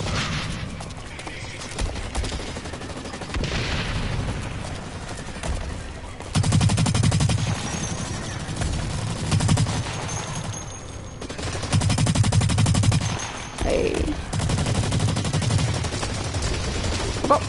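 Pistol gunfire crackles in a PS4 shooter game, with bursts of shots in quick clusters over a busy background of game noise.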